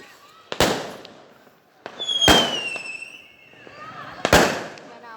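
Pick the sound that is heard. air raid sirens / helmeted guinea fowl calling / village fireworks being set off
village fireworks being set off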